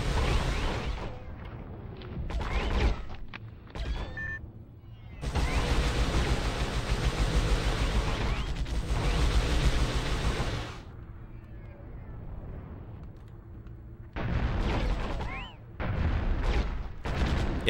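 Heavy gunfire and artillery-like blasts pound a ship in the Warhammer 40K Fire Warrior video game, loud sustained bursts broken by short gaps and a quieter stretch of rumble, with brief voice-like sounds in between.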